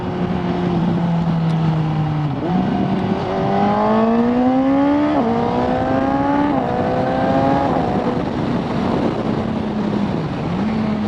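A Suzuki GSX-S750Z motorcycle pulls hard through the gears with a Translogic quickshifter, its engine note rising in several sweeps, each broken by a quick, abrupt drop at the shift, loud and close, with wind rushing throughout.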